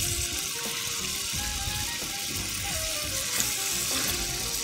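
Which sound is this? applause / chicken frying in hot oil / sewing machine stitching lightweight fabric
chicken frying in hot oil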